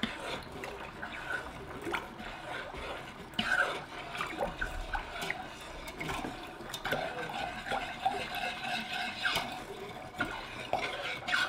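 Sugar, vinegar and water are stirred together in a pan for watermelon rind pickles, making soft continuous sloshing and scraping at low volume.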